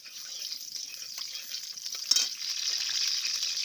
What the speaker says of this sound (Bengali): এই যে কড়াই রসুনটা দিলাম, রসুনটা থেতলে নিয়েছি, দিয়ে সরিষার তেল দিব, একটু সরষে দিব, একটু তেজপাতা দিব